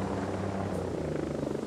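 A steady helicopter rotor drone with deep low thumping, continuous and fairly close, with no talking, from the video game Ghost Recon.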